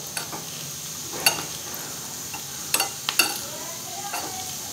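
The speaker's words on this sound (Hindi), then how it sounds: "अब इसमें ये कश्मीरी लाल मिर्च है, इसको डाल देंगे और अच्छी तरीके से मिला देंगे" Kashmiri red chili is stirred into a pan and lightly roasted, giving faint, soft scraping and sizzling with a few sharper clinks of a spoon against the pan, quiet and close, with no talking.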